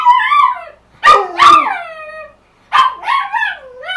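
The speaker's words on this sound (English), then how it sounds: "He usually will howl on command." A dog howls on command in a series of loud, close, wavering howls with yips, three bursts separated by short pauses.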